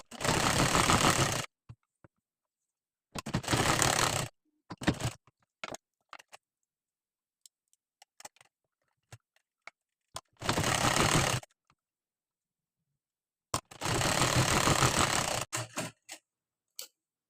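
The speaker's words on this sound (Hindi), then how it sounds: "हमें यहाँ पे प्रेस सिलाई लगानी है गले में।" A sewing machine runs in short bursts while press-stitching the neckline of a blouse, with loud stretches of rapid stitching split by quiet gaps filled with small clicks and handling taps.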